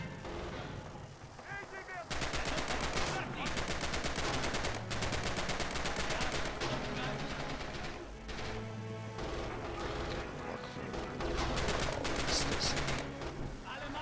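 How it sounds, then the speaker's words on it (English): Dense, continuous gunfire and explosive battle noise from the WWII shooter Red Orchestra 2: Heroes of Stalingrad, loud and sustained after a brief quieter opening, with sharp cracks layered over a constant roar. "Oh, I got people shooting at me."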